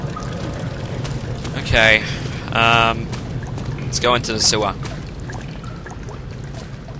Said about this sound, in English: Right, I think the water's drained.